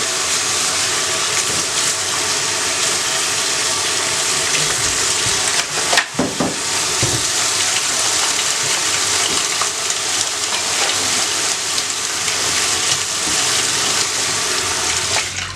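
Potatoes and onions are rinsed under a steady, loud stream of running water that fills the whole stretch, with a brief clatter and splash partway through.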